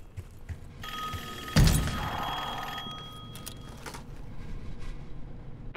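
Electronic telephone ring in the Black Ops 6 video game, a sustained tonal ring lasting about two seconds with a sharp clatter at its start over a low game ambience.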